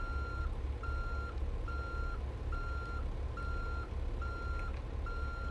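A truck reverses with a trailer in American Truck Simulator, its backup alarm beeping in a steady, evenly spaced rhythm over a constant low engine drone.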